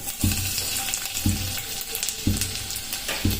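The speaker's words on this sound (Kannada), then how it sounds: "ಸೊ ಈಗ ಎಣ್ಣೆ ಬಿಸಿ ಆದಮೇಲೆ ಇದಕ್ಕೆ ಸ್ವಲ್ಪ ಜೀರಿಗೆ ಹಾಕೋತಿದ್ದೀನಿ, ಆಮೇಲೆ ಬೆಳ್ಳುಳ್ಳಿ ಪೇಸ್ಟ್" Cumin and garlic paste sizzle loudly in hot oil, a steady frying hiss broken by four evenly spaced low thumps of stirring.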